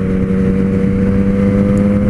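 A loud, steady four-cylinder motorcycle engine drone with strong low harmonics, running continuously without a clear rise in pitch, close up.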